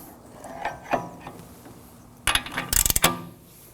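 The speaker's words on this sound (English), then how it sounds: "I'm going to be using a 27mm socket to turn the bolt in the back and an adjustable wrench to hold this in place." A 27mm socket turning a bolt on an Acura MDX wheel bearing, heard as a few faint metallic clicks followed by a short burst of loud rattling ratchet clatter.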